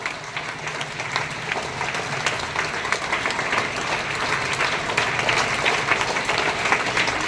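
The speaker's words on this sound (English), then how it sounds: "So give him a good applause." Students and staff at a school International Yoga Day event applaud a yoga teacher. Their clapping builds slightly and holds as a continuous, moderately loud crowd wash, with no clear talking over it.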